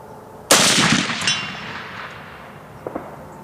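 A 7mm rifle fired at a steel target 200 yards away: one sharp, loud report that decays over about a second, then a faint metallic ping of the hit comes a moment later.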